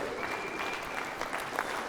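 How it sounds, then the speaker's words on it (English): A small group claps together in steady, moderately quiet applause, a dense patter of hands with no voices standing out. "Let's give Dexton a round of applause"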